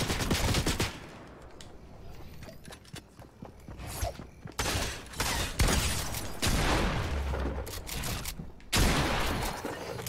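Rapid bursts of automatic gunfire from a gun in the video game Fortnite, crackling in dense loud volleys that pause briefly and resume several times.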